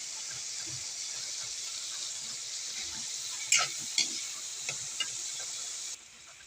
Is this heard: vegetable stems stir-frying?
yes